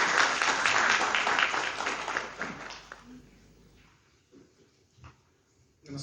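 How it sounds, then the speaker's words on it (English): Audience applause at an industry conclave in Delhi, dense clapping for the first three seconds and then thinning out. A few scattered claps and faint noises follow. "A big round of applause for Mr."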